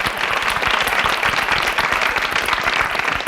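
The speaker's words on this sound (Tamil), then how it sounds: "அவங்களுக்கு ஒரு அரங்கம் நிறைந்த கைத்தட்டல் கொடுத்துடலாம்" Dense audience applause fills a hall at a Thirukkural speaking competition for school and college students, steady and loud throughout with no talk over it.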